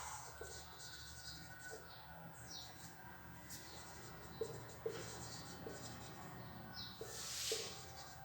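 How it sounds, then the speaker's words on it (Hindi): Pen writing out a sentence in a grammar lesson, a faint continuous scratching and scraping with small taps as strokes begin, close but quiet over low background hiss, with no talking. "तब तक मैं नेक्स्ट सेंटेंस लिखता हूं।"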